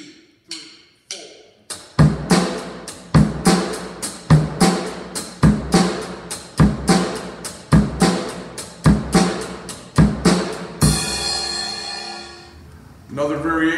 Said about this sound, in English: Instead of playing on one, three, I can play on the and of one, and the and of three